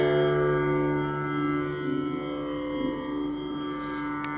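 A single pluck on the sitar's fourth string, its heaviest, ringing as a long sustained drone rich in shimmering overtones, steady and moderately quiet with a slight fade over several seconds, no talking.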